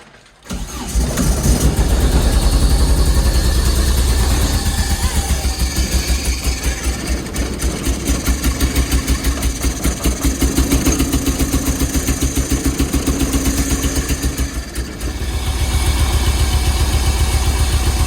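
A Subaru engine swapped into a VW Karmann Ghia cranks and fires, then settles into a steady, loud idle with an even, throbbing rhythm that runs for most of the stretch, heard close up with no talking.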